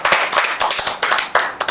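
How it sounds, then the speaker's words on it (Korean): An audience claps together at a talk with a Busan metalcore band, giving sharp, close hand claps in a quick, uneven rhythm of distinct bursts, loud and with no one speaking. "박수 한번 칩시다."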